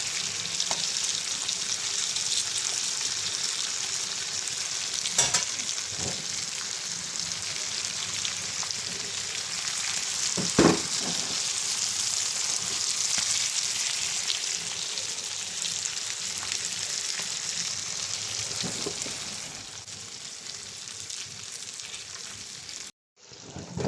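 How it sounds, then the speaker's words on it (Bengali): Fish and onion fry together in a pan, giving a steady, dense sizzle throughout with occasional stirring clatter and faint scraping as the pieces are turned, ending abruptly. "মাছটা আমি এভাবে ঘুরিয়ে ঘুরিয়ে ফ্রাই করে নেব সুন্দর করে"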